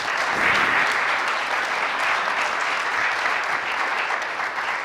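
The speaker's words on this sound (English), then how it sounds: "So if you'll join me in giving them a round of applause" A crowd applauds the genetics speakers at a rare disease genetic testing event, steady dense clapping sustained close and loud for about five seconds with no talk.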